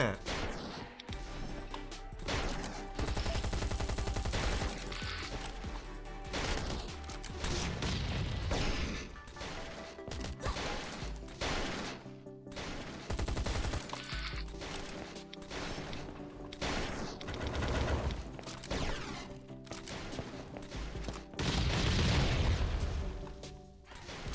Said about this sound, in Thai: เฮ้ยใครยิงกูเนี่ย